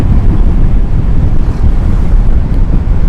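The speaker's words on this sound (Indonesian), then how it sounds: "Jadi angin yang masuk itu gede banget pas saya lagi kenceng." Loud, steady wind roars and buffets into the vents of a KYT K2 Rider helmet while riding at speed, a dense continuous rush that fills the whole stretch with no voices.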